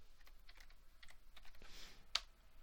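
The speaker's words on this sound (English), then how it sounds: "we can type enable" Faint keystrokes tap out a short command on a computer keyboard, about a dozen quick clicks with one sharper final key press, close and quiet with no speech.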